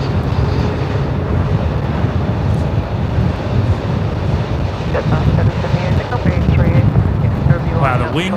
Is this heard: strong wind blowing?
yes